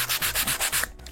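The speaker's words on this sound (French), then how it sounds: "votre ponceuse à main et vous allez couper, enfin poncer tout autour." Hand sander working around a plate, fast rhythmic rasping strokes about six to seven in a second, close and loud, stopping abruptly near the end.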